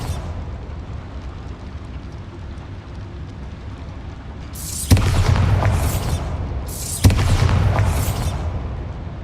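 Two deep Bombarda spell explosions from Hogwarts Legacy burst over a quiet ambient hum, each a loud booming blast followed by a short rumbling, crackling tail, about two seconds apart.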